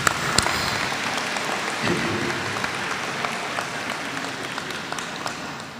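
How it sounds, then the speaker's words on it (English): Audience at a university convocation ceremony breaks into sustained applause, a dense, even wash of many hands clapping that holds steady throughout and tapers slightly at the end. "could we have a big round of applause for Mother Nature"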